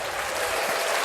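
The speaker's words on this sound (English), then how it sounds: "That one deserves a round of applause." A short burst of steady, dense applause from a group, clapping evenly throughout with no pauses.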